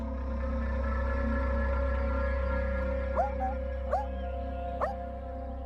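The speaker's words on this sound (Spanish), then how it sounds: "cállalo, que no ladre más" A dog gives three short, muffled barks spaced about a second apart, somewhat distant, over a steady low hum.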